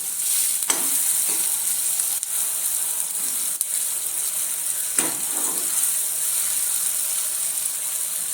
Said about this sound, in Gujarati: અને આપણે આ ડુંગળી છે એ પણ નાખી દઈશું। હવે આપણે મિક્સ કરી લઈશું।